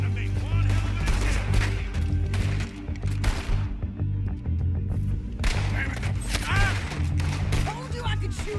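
Gunfire in the video game Red Dead Redemption 2 cracks out in quick, loud, close bursts over a low rumbling background, with a short lull before the shooting picks up again.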